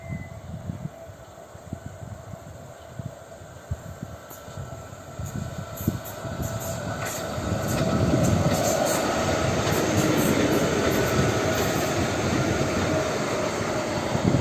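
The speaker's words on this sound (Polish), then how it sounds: "są to trzy flirty dwuczłonowe" A two-car Stadler FLIRT electric multiple unit passenger train rumbles past up close, its steady roar swelling and lingering, with rhythmic wheel clatter and a faint high squeal.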